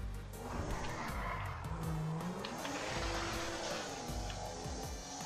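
Volkswagen Passat 2016 driving in GTA 5, a steady loud engine drone with tire squeal and skidding as the car corners, continuous throughout with no talk.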